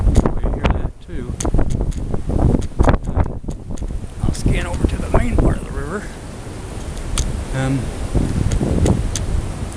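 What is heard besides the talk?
strong wind blowing by a flooded river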